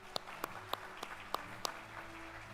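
Six sparse, evenly spaced claps sound faintly at a college graduation ceremony, like a few people clapping slowly in a quiet room.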